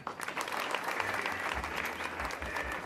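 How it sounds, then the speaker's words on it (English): Sustained applause from an audience at a boys' school academic day, a dense wash of clapping at moderate distance with low rumbling underneath, no pauses. "Clap for them."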